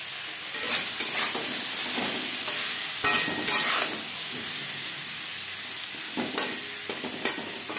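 Potato pieces fry with salt and turmeric in a pan, a continuous hiss of sizzling oil broken by several sharp scraping stirs of a spatula.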